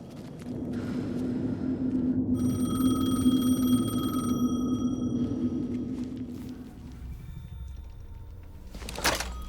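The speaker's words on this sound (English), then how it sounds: "The phone again." A telephone rings in Alan Wake 2, a thin electronic tone pulsing over a low, droning ambient rumble, fairly faint and alone without voices.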